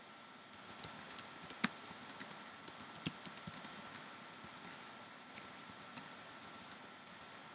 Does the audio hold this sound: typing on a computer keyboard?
yes